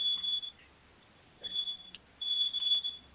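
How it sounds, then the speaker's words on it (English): An old-school alarm beeps in high, shrill bursts, a cluster of rapid beeps, a pause, then another longer run, clear and close. "Wait a minute, that's my alarm because I had another"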